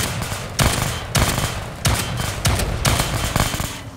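Shotgun blasts in the video game S.T.A.L.K.E.R., five or six loud, sharp booming shots spaced unevenly with brief gaps of rumbling game noise between them.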